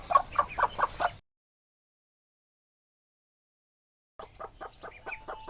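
Village hens used for natural egg hatching cluck in a quick rhythmic run of about five calls, fall silent for a few seconds, then cluck again more softly.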